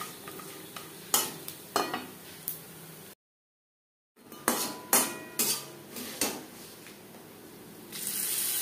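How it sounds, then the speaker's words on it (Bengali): Coconut and peanuts being stirred in a frying pan while cooking khichuri, with repeated scraping clinks of a utensil against the pan over a soft sizzle, broken by a brief silent gap. "আরেকবার একটু নারকেলের সাথে নাড়াচাড়া করে নেব।"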